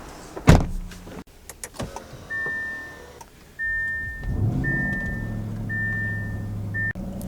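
A 2023 Audi RSQ8's power-adjustable steering wheel motor whirs steadily inside the cabin, preceded by a few clicks and a thump, with a repeating electronic chime over it.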